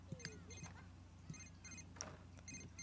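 Phone ringing in The Sims 3 life-simulation game: repeated short electronic ringing tones in bursts, fairly quiet over a steady low hum and game background sounds.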